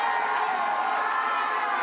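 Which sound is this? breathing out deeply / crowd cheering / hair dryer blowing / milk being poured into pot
crowd cheering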